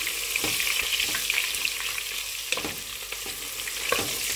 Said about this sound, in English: First thing you add in your hot oil, it's your sliced onions.